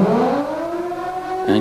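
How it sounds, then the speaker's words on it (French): A sea-rescue station siren at the port of Port-Vendres sounds a loud, sustained wailing tone that rises and holds steady before cutting off. "j'actionne la sirène"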